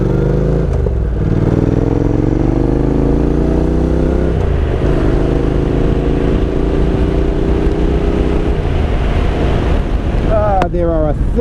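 Honda NC750X motorcycle riding an evening dirt road, a steady engine drone with shifting pitch under heavy wind buffeting on the microphone, loud and close throughout.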